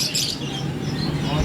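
Birds chirp and twitter amid the bustle of Lalukhet's Sunday bird market in Karachi, dense high calls over a busy background with people talking nearby.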